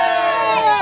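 A crowd at a Brazilian funk street performance shouts and cheers loudly in one sustained roar of many voices, close and dense.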